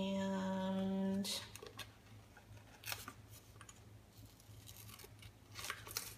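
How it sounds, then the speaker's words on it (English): Scissors snip through a sheet of paper during a daily-diary scrapbooking craft session, giving a few quiet, sharp cuts spaced over several seconds after a brief tonal sound at the start. "I'm just going to cut off a portion of it."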